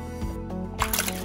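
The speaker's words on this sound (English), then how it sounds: "It just made a giant splash." An object dropped into water during a kids' sink-or-float experiment at home lands with a short, close splash burst after a soft drip-like plop.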